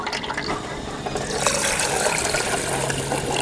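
Running tap water splashes continuously while green gram is rinsed in a kitchen for a sweet gulab jamun-style dish, growing slightly louder and fuller after the first second and steady to the end.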